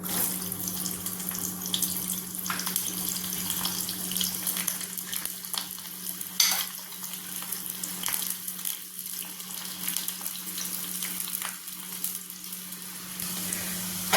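Chopped shallots frying in coconut oil give a steady, continuous sizzle that holds evenly throughout, close and moderately loud, with no talking.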